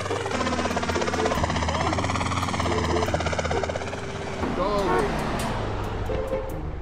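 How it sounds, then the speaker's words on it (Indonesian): A helicopter in GTA San Andreas flies with a loud, continuous rotor buzz and engine whine that shifts in pitch, with game effects layered over it. "Helikopternya lama, gak enak."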